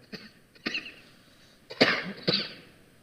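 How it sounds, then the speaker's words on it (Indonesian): A person coughing indoors, a few short sharp coughs spread across the moment, with two stronger bursts close together near the end, close and fairly quiet, with no talk. "lagi batuk kondisinya"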